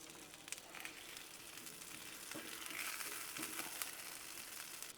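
Breakfast sausage links sizzling in oil on a griddle: a soft, steady crackle with scattered pops and light scraping, fairly quiet and with no talking.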